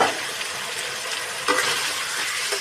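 Fried vegetables and soybean are stirred into spiced oil in a pan, making a continuous hissing sizzle with scraping stirs and a sharper burst midway, with no talking.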